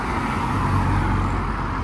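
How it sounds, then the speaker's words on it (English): A Ford Fiesta cruising past at a Japanese car meet on the streets of Reading, a steady engine and road rumble passing close by, loud and continuous with no talk. "They're just cruising in the Fiesta as well."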